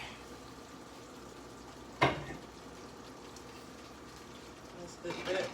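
A covered pot simmers on a stove, giving a steady, soft bubbling hiss throughout, broken by one sharp knock partway through and a brief stir of clatter near the end.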